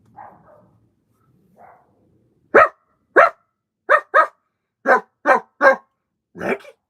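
A worked-up dog lets out about eight sharp, loud barks in an uneven burst, preceded by a few faint, low grumbling sounds in an otherwise quiet room.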